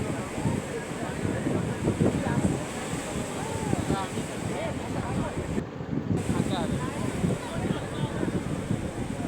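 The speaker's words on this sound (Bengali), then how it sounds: "খুব ঢেউ, একদম উত্তাল সমুদ্র" Rough, high-tide sea at Digha beach, with waves surging up the sand in a continuous loud roar mixed with gusty wind buffeting the microphone, while a person talks over it.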